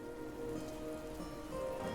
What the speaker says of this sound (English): The rain continued to fall as it always had